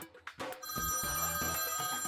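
A mobile phone rings while hidden under a pillow. A few soft rustles come first, then a steady, bright electronic ring starts about halfway in and carries on clearly to the end.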